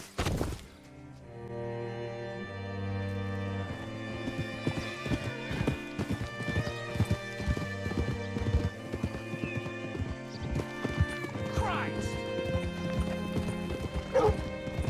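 Horse hooves clip-clop steadily through a western video game scene, layered over a sustained musical score, with a few whinnies and occasional dog-like yips near the end.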